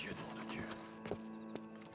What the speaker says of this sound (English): I can't brush my horse